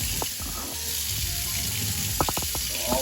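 Running tap water rinsing a ball python during a wash, a steady close splashing stream with a few sharper trickles and drips toward the end.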